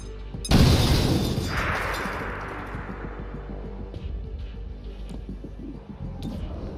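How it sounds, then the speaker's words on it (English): A frag grenade explodes in the tactical game XCOM: Chimera Squad with one sharp, loud blast, followed by a long rumbling decay and faint scattered debris ticks, with no talking. "Grenade. Frag out!"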